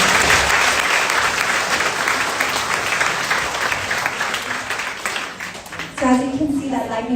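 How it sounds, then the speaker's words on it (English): A studio audience gives a round of applause during a news analysis show, loud and dense at first and gradually thinning, with a voice starting to speak as the clapping tapers near the end. "give them a round of applause,"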